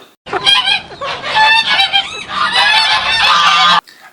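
A flock of geese honks loudly and continuously, overlapping nasal calls close by, filling the air for several seconds before stopping abruptly.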